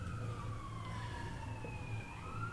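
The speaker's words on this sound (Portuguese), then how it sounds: "vira e mexe, vocês vão escutar uma sirene mesmo" A siren from an emergency vehicle near a hospital wails with slowly falling and rising tones, heard faintly at a distance over steady low background noise.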